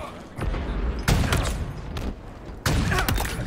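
Plasma gun fire in Halo Infinite, loud repeated bursting shots in an uneven rhythm over constant combat noise, with several strong hits spaced a second or so apart and no voices.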